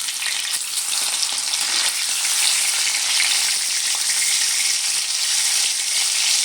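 Shol fish (snakehead) frying in hot oil in a home kitchen, a dense continuous sizzle that holds steady and loud throughout with faint crackles, no voices.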